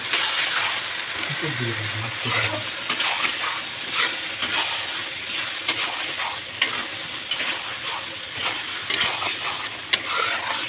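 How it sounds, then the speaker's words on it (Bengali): A spatula stirs masala paste with potato and onion in a hot wok, making a loud continuous sizzle broken by regular scraping knocks against the metal, with a brief low voice early on. "একদম কড়াইয়ের মধ্যে ভালো করে এটাকে নেড়ে নিচ্ছি মশলাটাকে আলু আর পেঁয়াজের সাথে"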